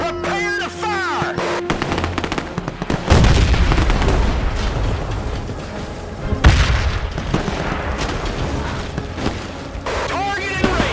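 Artillery fire in the Men of War II World War II strategy game sets off heavy booms and explosions. They start sharply and continue as ongoing gunfire and blasts, loud and close, with battle voices mixed in.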